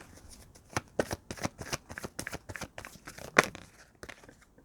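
Tarot cards are shuffled close by, with a quick run of a dozen or so crisp riffling flicks over a few seconds in a quiet room.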